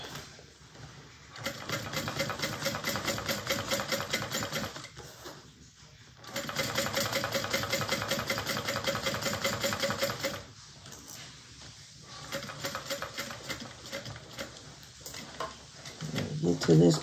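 A sewing machine top-stitches all around a bag, humming in a loud, fast, even whir through long runs that stop briefly and start again as the work is turned.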